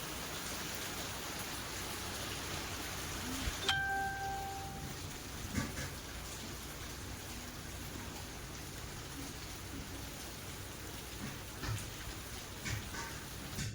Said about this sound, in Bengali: এই যে দেখুন কেমন ঝমঝমিয়ে বৃষ্টি পড়ছে